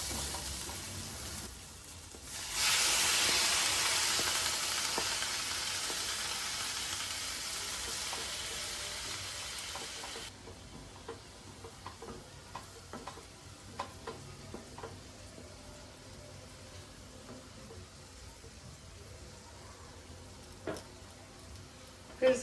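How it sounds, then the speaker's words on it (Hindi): Tomatoes drop into a hot pan and erupt in a loud, steady broadband sizzle for several seconds, then it cuts off, leaving quiet kitchen clinks and scattered small knocks. "टमाटर डाल देते हैं।"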